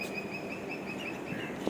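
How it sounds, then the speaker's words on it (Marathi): Birds call in a green garden watered by irrigation, with faint steady chirps and whistles held over a quiet outdoor background. "पक्षी वगैरे ओरडत आहेत."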